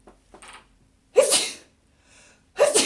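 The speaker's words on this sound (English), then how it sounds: "and I'm going to sneeze." A person sneezes twice, loud and close, each sneeze preceded by a short sharp inhale, with quiet breathing in between.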